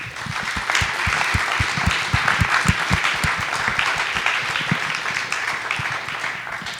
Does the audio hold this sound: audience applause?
yes